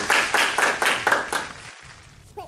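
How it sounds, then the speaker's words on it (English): An audience claps for a comedian at a Halloween show, a burst of about six loud pulses that thins and fades within two seconds into near silence. "let's hear a round of applause for our most famous comedian, Mr. Bone"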